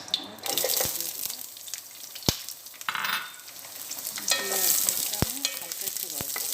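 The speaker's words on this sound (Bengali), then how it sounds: "তেলটা গরম, এখন আমি পেঁয়াজটা দিয়ে দেবো" Onions crackle and sizzle as they drop into hot oil for a potato and bitter gourd dish, a steady close hiss broken by a few sharp spoon or pan knocks, with water running at a sink partway through.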